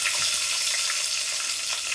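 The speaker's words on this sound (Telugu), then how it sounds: "ఆయిల్ హీట్ అయ్యాక హోల్ గరం మసాలా వేసుకోవాలి. ఇది కొంచెం ఫ్రై అయినాక" Whole garam masala spices fry in hot oil, giving a steady, close, even sizzle of crackling oil with light stirring scrapes and no voices.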